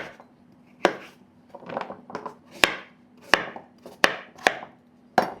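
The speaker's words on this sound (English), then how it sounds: "Then cut it into the pieces." A knife chops squash pumpkin into pieces with about eight sharp, distinct strikes, irregularly spaced and close, with softer scraping and handling sounds between the cuts.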